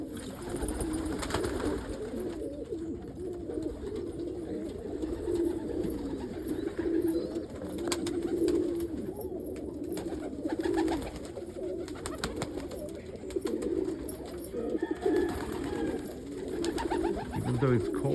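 Pet pigeons in a loft coo in low, rolling murmurs throughout, several birds overlapping in a continuous warble, with wing flutters and faint talking in the background.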